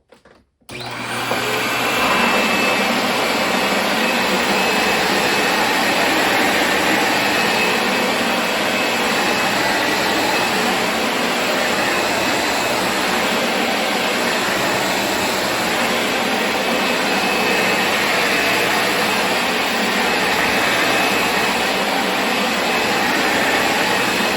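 A loud Dirt Devil Ultra MVP upright vacuum roars steadily and continuously while picking up cereal, with a high whine on top, running close by without pause.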